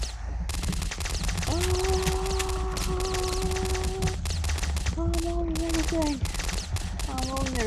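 Rapid Uzi fire from the Box Head video game, a dense stream of sharp shots running nearly nonstop, with game tones and effects layered over it.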